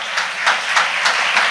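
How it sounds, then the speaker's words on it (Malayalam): A school audience at an arts fest claps together, a short burst of steady, even applause with no voices over it. "നല്ലൊരു കയ്യടി 3 പേർക്കും കൊടുക്കാം."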